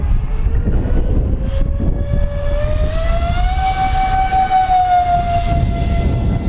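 An RC F-4 Phantom II model jet from LX Models/Banana Hobby roars loudly through its takeoff run, the turbine whine rising steadily in pitch and holding strong throughout, with no talking.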